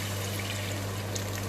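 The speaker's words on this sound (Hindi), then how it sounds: "इसमें अब हम पानी ऐड करेंगे।" Water is poured into a large pot to cook matar pulao rice, a steady close pour over a constant low hum.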